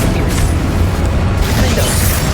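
A Confringo blasting spell explodes in the video game Hogwarts Legacy, a loud sustained booming roar with rumbling low end and bursts of crackle throughout, no talk.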